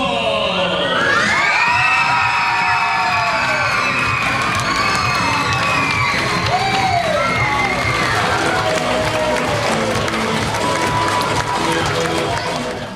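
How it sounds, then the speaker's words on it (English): A loud crowd of children cheers, shouts and whoops together without pause, an excited, continuous roar of young voices. "Make some noise for Corny Rempel!"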